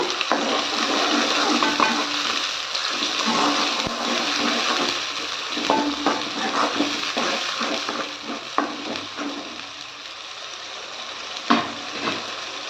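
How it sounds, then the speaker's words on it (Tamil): A ginger, garlic, tomato and onion paste with prawns being stirred in a hot pan, sizzling steadily with scraping spoon strokes and a few sharp knocks against the metal, fairly close and without speech. "அந்த விழுது வந்து சேர்த்துக்கலாம் சேர்த்துட்டு நல்லா கலந்து விடுங்க"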